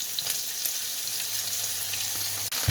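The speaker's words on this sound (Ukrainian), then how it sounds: "Перемішую і просто обсмажую до готовності" A steady, close sizzle of fish roe and onion frying in a pan, continuous and fairly loud, with a brief stirring clatter near the end.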